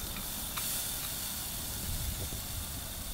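Fresh garlic sizzling in a hot pot with sun-dried tomatoes, a steady quiet hiss close by.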